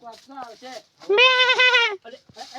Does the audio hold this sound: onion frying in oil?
no